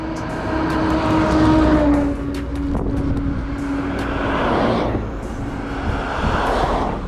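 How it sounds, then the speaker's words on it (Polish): A truck roars past close by, its engine noise swelling and fading, followed by more passing traffic rumble. "Jedzie ciężarówka."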